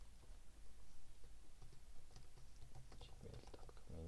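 Keys clatter quietly on a computer keyboard as an email address is typed. The soft, quick clicks sit close but faint over low room hiss.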